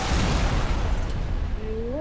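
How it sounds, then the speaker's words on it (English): Explosions rumble and crackle through a video game battle against tanks, a dense, loud, continuous barrage of blasts that keeps up for the whole stretch, with a brief voice rising near the end. "All the explosions!"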